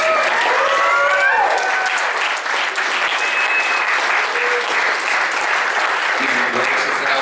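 A dense, loud audience applause at a comedy panel at Metacon 2018 holds steady for about seven seconds, with scattered cheers and voices mixed into the clapping.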